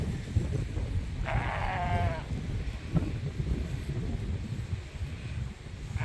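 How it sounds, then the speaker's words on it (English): Sheep in a windy pasture give a single clear bleat against steady gusting wind noise, with a fainter call moments later. "Just came out to check on the sheep."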